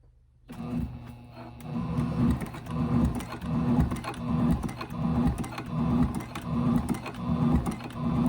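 A Juki TL-18QVP sewing machine stitches a journal binding with thick thread at its longest stitch length, starting after a brief quiet moment and then running as a steady, close mechanical whir with a fast rhythm.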